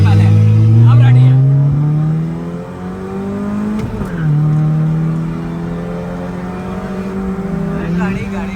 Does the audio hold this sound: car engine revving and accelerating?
yes